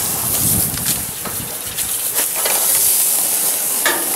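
Hamburger patties cooking on a hot grill, a steady close sizzle and hiss with faint scraping and crackle, continuous and even without talk.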